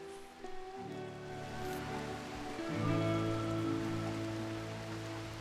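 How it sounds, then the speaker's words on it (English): Rain patters steadily in a video game, a constant soft hiss of falling drops heard under sustained musical tones, with no talking. "this rain is probably not doing our solar panels any good, is it?"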